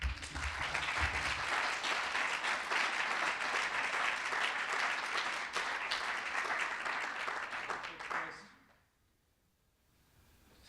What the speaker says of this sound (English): Everyone give a big warm round of applause for our very own Abul Sharah